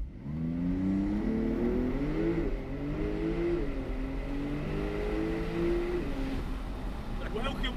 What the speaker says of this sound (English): let's get this beast started up, take it out for a bit of a blast